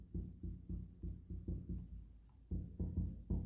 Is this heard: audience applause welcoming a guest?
no